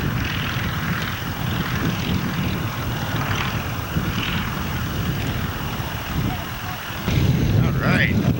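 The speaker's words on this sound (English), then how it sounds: "Got to talk to this pilot before that plane comes over." A propeller airplane passes overhead outdoors, a steady broad engine drone with wind buffeting the microphone throughout. The drone swells louder near the end.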